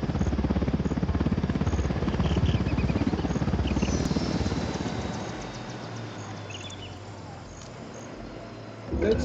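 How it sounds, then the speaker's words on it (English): A dense rotor chop from a helicopter passing overhead in the game Ghost Recon Wildlands stays loud, then thins and eases off as the aircraft moves away, with voices talking over it. "Chopper, hit the dirt."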